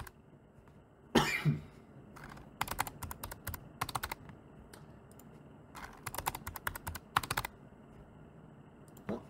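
Fingers type on a computer keyboard in short bursts of rapid clicks separated by pauses, close and clear, with a cough and throat clearing near the start.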